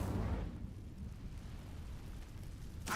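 A fire spell erupts in a fantasy video game with a heavy, roaring whoosh that swells loud at the start, rumbles low and steady, then flares again sharply at the end.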